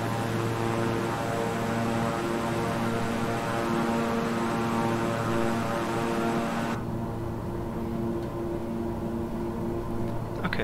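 A King Air 350i twin-engine turboprop in Microsoft Flight Simulator drones with a steady propeller hum and engine whine, constant and fairly loud, with no talking.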